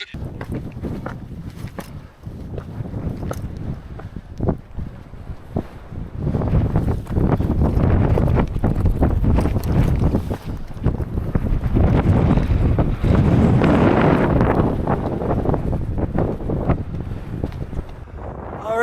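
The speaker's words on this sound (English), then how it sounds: "It is really windy up here." Strong wind roars and buffets the microphone continuously on the summit of Mount Marcy in the Adirondacks, loud and gusting, growing heavier partway through with no other clear sounds.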